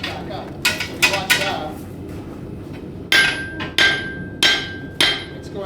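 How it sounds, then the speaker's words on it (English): A blacksmith's hammer strikes hot steel on an anvil in a series of sharp, ringing blows, some quick pairs then evenly spaced strikes, close and loud over background crowd murmur at a forest discovery centre demonstration. "when the hammer hits the steel at the right temperature, and it bounces back up"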